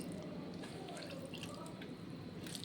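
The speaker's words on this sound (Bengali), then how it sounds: "জলটা ভালোভাবে চেপে চেপে দিয়ে দিচ্ছি" Soaked sago pearls are squeezed by hand so the water drips out, giving a faint, steady patter of drips and trickling in a quiet kitchen.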